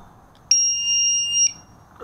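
A small battery detector alarm fitted to a V913 RC helicopter lets out a single loud, piercing electronic buzz lasting about a second, close and steady, then cuts off abruptly.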